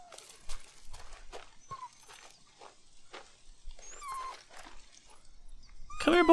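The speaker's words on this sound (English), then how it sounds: "Sounds like a pup, too!" A puppy whimpers and cries from inside a small shack in the game Days Gone, in short high whines spread over several seconds, with a louder burst of whining at the end, over faint footsteps.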